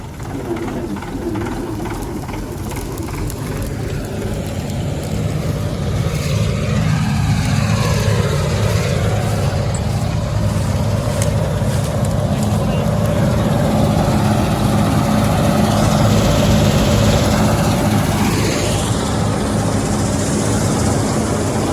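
A Swaraj 911 tractor running on a Punjabi farm, Dasmesh implement at work, a loud, continuous low engine drone that shifts pitch now and then, with a song playing over it.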